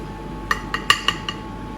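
A metal spoon clinks against a dish while stirring puree, giving five quick, light taps spaced about a quarter second apart, close and clear over a quiet background.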